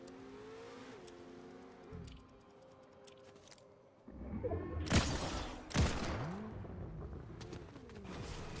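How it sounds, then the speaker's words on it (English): Distant car engine revving and accelerating in the video game Fortnite, heard faintly alongside gunfire bursts and bird coos in the background. "So do I hear a car in the distance?"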